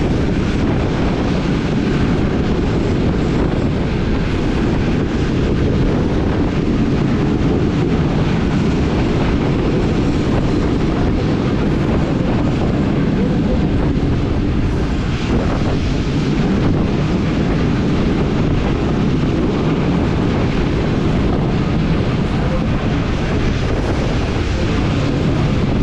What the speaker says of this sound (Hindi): स्पेशल पार्सल ट्रेन है ये।